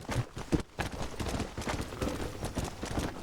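Horse hooves clip-clop steadily in the Red Dead Redemption video game, a moderate, continuous rhythmic clatter of riding with no talk over it.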